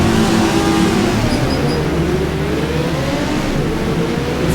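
A Formula 1 car engine in the F1 Challenge racing game revs loudly and continuously on hard tires in dry conditions, the pitch climbing and falling as it accelerates, with no talk.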